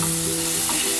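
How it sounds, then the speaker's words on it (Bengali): Semolina and oats sizzle in a pan over a medium flame while being stirred with salt. The frying hiss is close, loud and steady for a brief moment. "বিট লবণটা দিয়ে ভালো করে আমি মিশিয়ে দেবো।"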